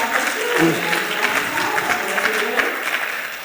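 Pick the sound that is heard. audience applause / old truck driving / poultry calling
audience applause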